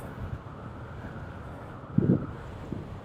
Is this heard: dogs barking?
no